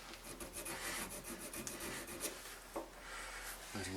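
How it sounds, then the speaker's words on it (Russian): A pencil rasps across a wild apple wood blank, marking out a handle part for a lathe. Steady, close scratching strokes run through the whole stretch with a few brief pauses, and no one speaks. "Вот здесь прям так карандашом намечаю"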